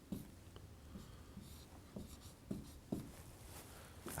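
Pen or pencil writing fractions by hand on paper during a maths lesson, a run of short scratchy strokes with small taps between them, close and fairly quiet, no talking.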